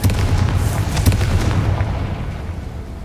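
Confringo spell blast in Hogwarts Legacy, a loud booming explosion that rumbles and slowly fades over a few seconds, no voices.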